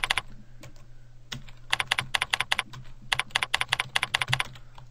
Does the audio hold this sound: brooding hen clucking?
no